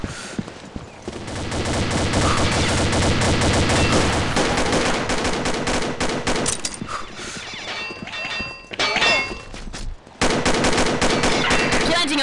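Rapid automatic fire from a CX4 Storm in a video game on an oil rig map, dense and loud bursts running almost continuously with brief gaps.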